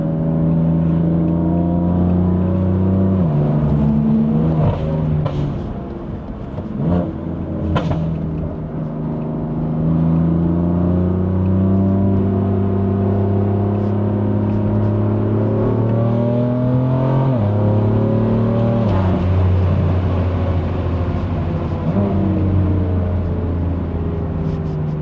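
A 2020 BMW M4 Competition with a Stage 2 tune drives on a dry road. Its engine hums loudly and steadily, rising in pitch through each gear and dropping at the shifts, with a constant low road rumble underneath.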